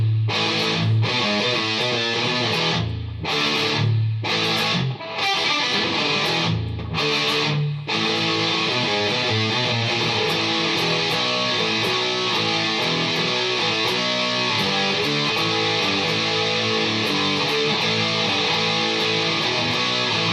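Electric guitar played through an Electro-Harmonix Pocket Metal Muff distortion pedal with every control at halfway and no scoop, giving a loud, continuous saturated classic-rock tone; a few short choppy stabs come first, then sustained ringing chords.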